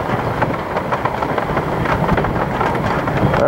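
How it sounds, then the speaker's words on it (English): Gusting wind during a hail storm in Lincoln, Nebraska, a steady rumbling rush buffeting the microphone, loud and continuous with slight surges, no voices. "Winds are picking up just a teensy bit."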